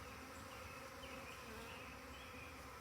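A swarm of honeybees settles outside the hive as a dense, even buzz of many wings, steady and continuous throughout with no voices.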